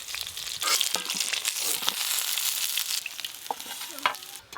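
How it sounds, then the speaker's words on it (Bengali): Tangra fish sizzling in hot oil: a dense, close, continuous hiss with frequent crackles and spitting pops and a few stirring knocks, fairly even in loudness throughout. "এগুলো একসঙ্গেই ভেজে নেব"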